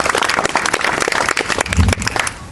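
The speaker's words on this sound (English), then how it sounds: "So I think he deserves another round of applause." An audience claps in a dense, continuous burst of applause, fairly loud and close, filling the short stretch without pause.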